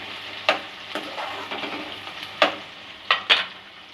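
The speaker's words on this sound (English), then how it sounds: "Just saute them for 2 minutes." Onions sauteing in oil in a pan while cooking green chicken, with a steady low sizzle and several sharp scrapes and taps of stirring, close and fairly loud, no voices.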